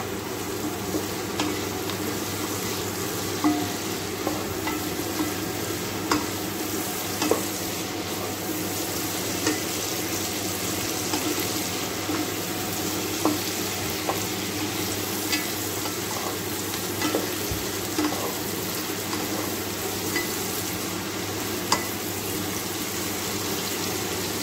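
Salted onions fry in a pan, a steady low sizzle with occasional soft stirring scrapes and clicks, close and quiet throughout.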